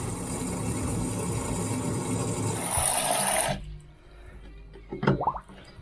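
Tap water pours steadily into a vanity sink and down its drain during a water test, a loud continuous rush that cuts off abruptly partway through, followed by a few faint drips and gurgles.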